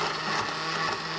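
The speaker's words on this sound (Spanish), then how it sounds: "Y este se va a volver a licuar." A blender runs continuously and loudly up close, whirring through pineapple atole with ice and vanilla as a dense steady drone with a low motor hum underneath.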